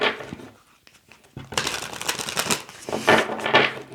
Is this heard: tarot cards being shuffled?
yes